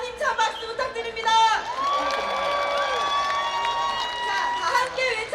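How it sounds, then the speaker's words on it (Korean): Large outdoor crowd at a Democratic Party campaign launch rally in Gwanghwamun applauds and cheers, a dense, sustained roar of clapping and shouting with whistle-like calls that stays loud throughout. "다시 한번 힘찬 박수 부탁드립니다."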